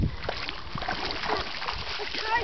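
Comet the dog splashes while swimming in Chinch Creek Reservoir, a close, continuous sloshing and paddling of water with faint voices nearby.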